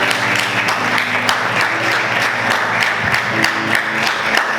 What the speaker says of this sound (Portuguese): Você pode aplaudir o Senhor com bastante alegria.